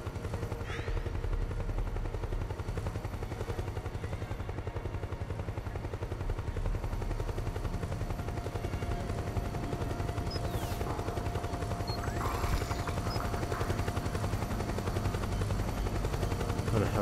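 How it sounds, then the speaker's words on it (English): Helicopter rotor drone with bursts of gunfire in Metal Gear Solid 4, a steady dense roar filling the whole stretch with sharp shots and whooshes layered on top. "It's a helicopter."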